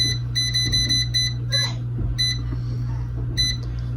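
An air fryer's digital control panel chirps through a rapid series of short, sharp beeps as its temperature is set, with a steady low motor hum underneath and a voice talking.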